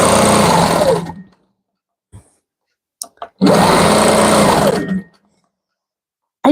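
Sewing machine quilting a panel quilt, whirring in two fast bursts of about a second each separated by silence and a few small clicks, loud and close.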